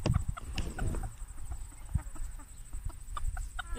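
Backyard hens being offered quince, soft close clucking and low murmuring calls scattered through the clip, with a few scratchy rustles and no talking.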